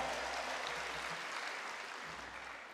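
An audience claps together at a PPG teacher-training alumni gathering at UIN Sunan Kalijaga Yogyakarta. The applause is a steady, fairly soft wash that fills the whole stretch and tapers slightly toward the end.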